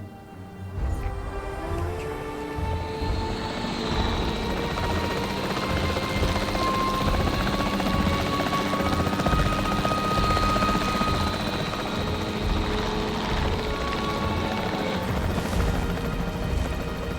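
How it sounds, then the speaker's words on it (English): A capture team helicopter in Jurassic World Evolution 3 thunders continuously, its rotor drone loud and close with whining engine tones, while occasional gunfire-like pops sound faintly beneath. "The priority needs to be tranquilizing it with the capture team chopper."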